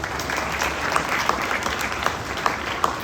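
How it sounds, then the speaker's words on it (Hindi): An audience applauds children's performances at an Indian language festival, giving a steady wash of clapping with a few sharper individual claps standing out. "सब बच्चों को जोरदार तालियां बजाएंगे आप"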